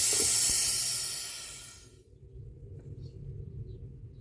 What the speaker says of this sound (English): you should hear a sound where the air is coming out